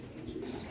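A Teddy breeder pigeon gives a short, low, throaty coo, close by and soft, in a brief burst with no other sounds around it.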